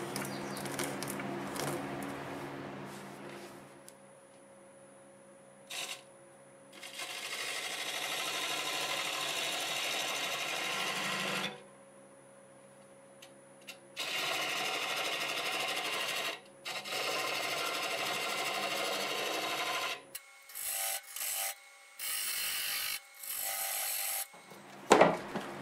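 A wood lathe spins a wooden workpiece while a tool cuts a tenon, giving long steady scraping and rasping passes with a faint motor hum and short breaks between cuts.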